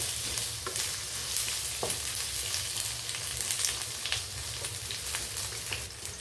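Radish sautés in a pan with a steady frying sizzle, broken by occasional scraping stirs and small pops. The sound is close and moderately loud, with no talk.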